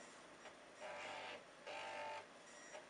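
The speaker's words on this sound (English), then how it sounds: "Result coming from the video printer, Brian." A video printer in a Turbo Basic football game prints results in two sustained mechanical buzzing bursts between quieter pauses, faint and heard alone.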